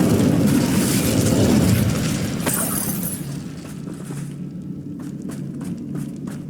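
A fire spell cast in Hogwarts Legacy bursts out as a loud roaring, crackling whoosh, then fades into lower rumbling with scattered sharp clicks and thuds.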